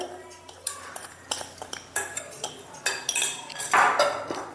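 Vattayappam batter being beaten with sugar in a bowl, a run of irregular utensil clinks and scraping strokes against the bowl, close and moderately loud, with no voice present.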